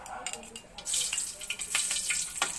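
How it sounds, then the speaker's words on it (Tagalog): Onion and garlic sizzle as they are sautéed for chop suey, a bright close frying hiss with stirring scrapes over a short stretch, a faint voice briefly at the start. "Gigisa-gisa muna natin si buyas, bawang."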